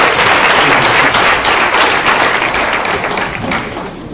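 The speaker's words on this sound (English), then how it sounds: "I would like all y'all to stand up and give this man a round of applause," Loud, dense applause from an awards-ceremony audience greeting keynote speaker Rick Ross, continuous close clapping with thumps that eases slightly toward the end.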